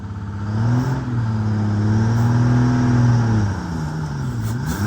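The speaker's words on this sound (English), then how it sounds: "Give it a little more throttle and then slip the clutch a little." An antique bus engine revs up as throttle is applied and the clutch is slipped, a loud sustained mid-pitched drone that rises, holds, then sags and dips before climbing again.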